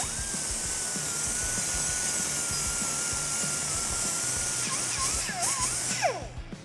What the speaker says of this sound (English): grab an angle grinder or something similar, just clean up the burr around this pre-cut pipe